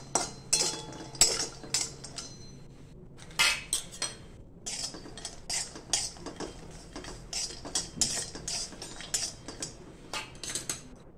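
Turmeric roots dry roasting in a pan with a little oil, heard as a busy stream of close metallic clinks and scrapes from stirring against the pan, irregular taps over a quiet background.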